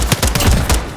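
Rapid gunfire in Call of Duty: Modern Warfare, a quick burst of several sharp, loud shots in close succession.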